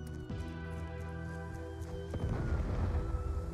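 Gunfire in Call of Duty Black Ops II: a steady game-audio bed with a few sharp reports, then a denser rumbling burst of shots and explosions in the second half.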